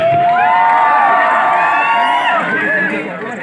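A large, loud audience at a public gathering cheers and hoots continuously, with high whistling whoops rising above a dense roar of voices that fades slightly toward the end.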